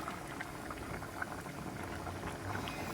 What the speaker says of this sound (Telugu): చూడండి ఫ్రెండ్స్, ఎలా ఉడుకుతుందో మన మటన్ బీరకాయ గ్రేవీ